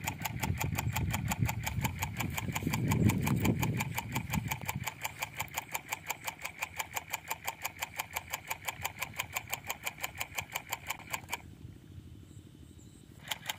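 A small rice-field tractor engine starts up and runs at a steady idle, its loud rapid rhythmic chugging continuing alone without voices.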